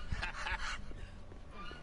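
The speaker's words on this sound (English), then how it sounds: "Yeah, there's the goose." A goose in Resident Evil 4 gives a couple of loud, close honks in the first half, and fainter game ambience follows.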